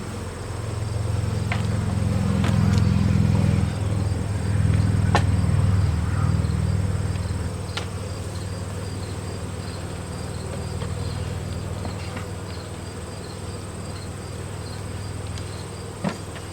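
Honey bees buzz around an open hive, a dense continuous hum close by with individual bees droning past, louder at first and steady for a long stretch, with no talking.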